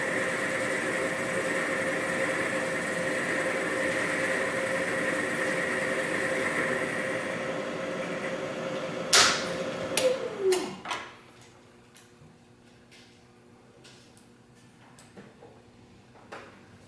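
Lathe machining a steel sleeve for an elongated hitch pin hole repair, a steady whirring cut with a faint tonal whine that stops abruptly, followed by a few sharp clunks and knocks as the machine winds down to quiet.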